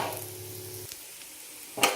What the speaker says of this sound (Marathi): थोडंसं तेल टाकलेलं आहे आणि तेल टाकून आपण याला भाजून घेऊ छान